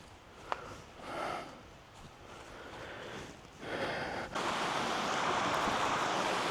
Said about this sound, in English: I hear the creek again.